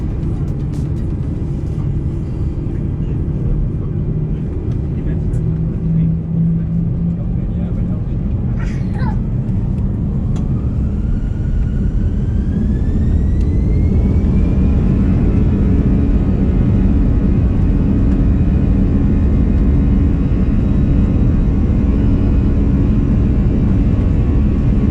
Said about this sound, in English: We took off on runway 28 before banking to the right and heading back towards the UK.